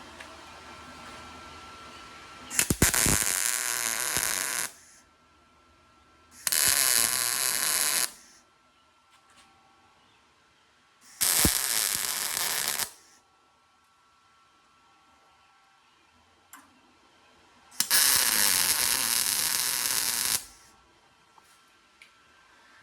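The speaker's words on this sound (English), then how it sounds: "First, I'm gonna go ahead and weld this on, or just throw some tacks." Four loud MIG welding tacks on a car door jamb of a 1931 Chevy rat rod, each a steady crackling buzz lasting about two seconds, separated by quiet pauses.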